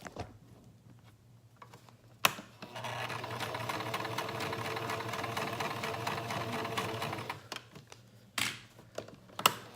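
A sewing machine runs a straight stitch in a steady, fast whirring burst of several seconds, with brief clicks and handling noises before and after.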